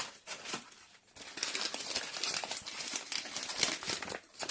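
Good-quality gift wrapping paper crinkles and crumples continuously as a present is unwrapped, with close, busy rustling and brief tearing bursts throughout and no voices.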